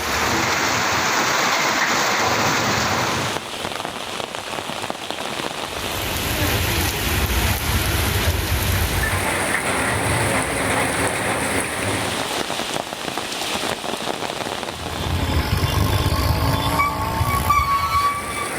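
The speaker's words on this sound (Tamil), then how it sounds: "தமிழகத்தின் பல்வேறு மாவட்டங்களில் பரவலாக மழை பெய்தது" Heavy rain pours down across Tamil Nadu, a loud, steady hiss of drops hitting surfaces that swells and eases over about eighteen seconds, with low rumbling underneath and no voices.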